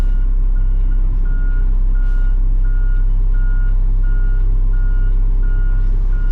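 A truck at a landfill reverses with steady, evenly spaced backup beeps sounding over a loud, constant diesel engine rumble, close to the microphone, with no talking.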